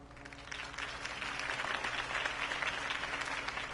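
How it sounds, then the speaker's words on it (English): A crowd applauds steadily in the video game Batman: The Telltale Series, a dense wash of many hands clapping at moderate volume for a few seconds. "could have heard that applause"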